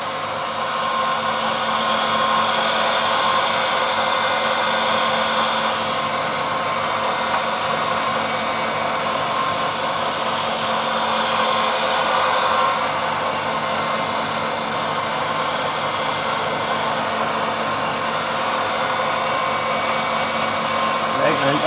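A rotary cutter bites into a small part from a steam brake cylinder drain valve, giving a steady, close, high-pitched grinding whine that holds throughout with no clear breaks.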